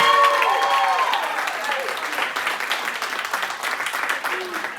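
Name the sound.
audience applause for the booth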